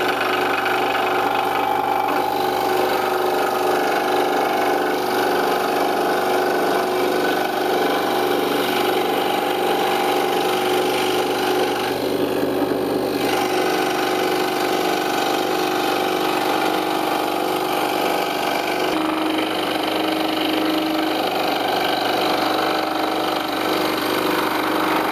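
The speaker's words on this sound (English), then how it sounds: "So over to the scroll saw. Now to start cutting." A scroll saw cuts a wooden MDA sign with a continuous, steady motor buzz and rapid reciprocating blade hum, close and loud throughout, with brief dips but no speech.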